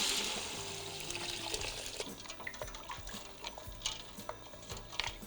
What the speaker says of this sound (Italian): Unisco il ghiaccio e poi l'acqua.